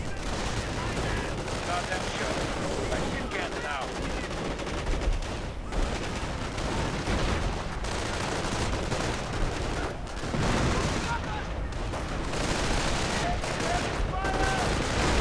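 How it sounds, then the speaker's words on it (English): Grenades explode and gunfire crackles without pause in a two-versus-two match of a World War II strategy game, a dense wash of blasts and rifle and machine-gun bursts under steady battlefield rumble. "Grenades going off left and right."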